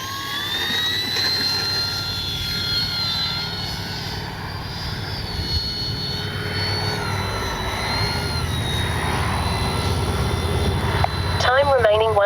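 An RC model F4U Corsair warbird running on a 4S battery flies past with a steady electric motor whine that shifts in pitch as it passes, heard over constant outdoor wind and background noise, with faint voices nearby.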